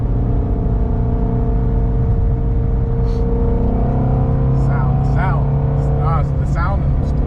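A Shelby GT350 sports car's engine runs loud and close as a steady, droning roar without clear revs, while people talk over it inside the car.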